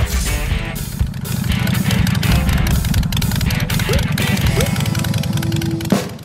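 A Harley-Davidson motorcycle engine runs loud and close with a deep, throbbing low rumble that pulses steadily throughout. A brief sharp blip comes near the end.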